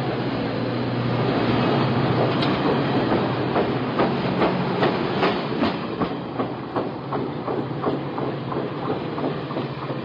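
A passenger train pulls away, its steady rumble joined by a regular clickety-clack of wheels over rail joints that quickens slightly as it gets going; no one speaks.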